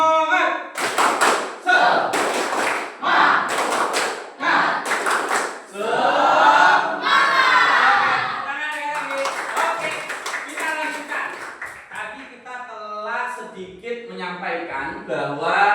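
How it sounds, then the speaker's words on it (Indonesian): A classroom group claps a rhythmic spirit clap in quick bursts of taps, loud and close, interleaved with a leader's spoken calls and chanting voices. "Ya, tepuk semangat berproduksi."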